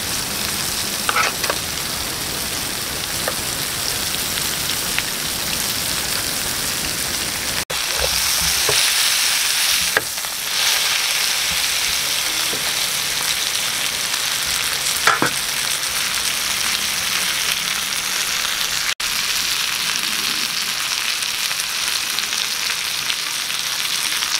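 Steak coated in a desiccated coconut crust frying in a pan, a loud, steady hiss and crackle that runs unbroken, with a few soft knocks and shifts of the meat, and no talking.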